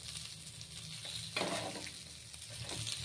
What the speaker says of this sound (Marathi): आता आपण सर्व मासे असे तळून घेणार आहोत